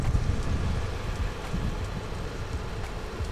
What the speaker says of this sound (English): You see how windy it is? It's bloody blowing it away.